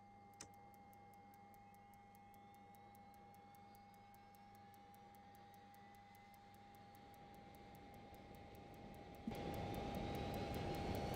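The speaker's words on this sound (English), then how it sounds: "It's very easy to start this here engine." A simulated Learjet 35A jet engine starts up in Microsoft Flight Simulator 2020: a steady whine and tones build slowly under faint regular ticking, then the roar swells abruptly louder near the end.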